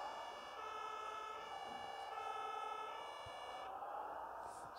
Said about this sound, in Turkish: Sirenlerimizi kapatalım şimdilik.